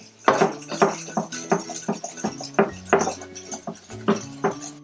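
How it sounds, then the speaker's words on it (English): Sugar and melted butter whisked in a large bowl: a brisk, uneven run of close metallic clinks and scrapes against the bowl, with no voices. "In a large bowl, add 3/4 cups of sugar and 1/3 cup of melted butter. Whisk these up well."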